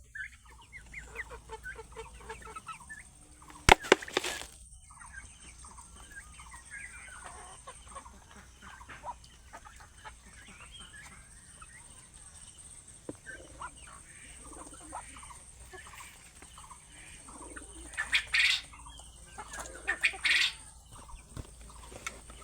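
Chickens cluck and chatter around feeding time on a farm where ducks and pigeons share the same grain feed, with a few louder bursts of calls standing out over a quieter background.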